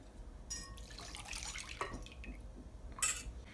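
Some 250 grams of melted butter is poured into a bowl, giving quiet liquid splashes and drips in a few short bursts close by.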